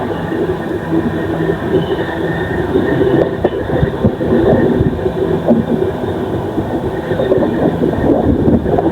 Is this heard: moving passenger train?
yes